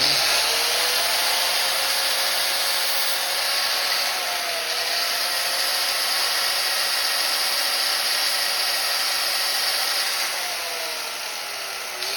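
Angle grinder trimming loose frayed edges off the braided end of an AN hose line, a steady high-pitched whine that runs continuously at close range and eases slightly toward the end.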